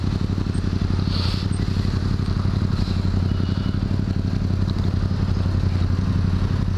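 A motorcycle cruises along a road through Lavallette, New Jersey, its engine a steady, loud, close drone with constant wind rush and no breaks.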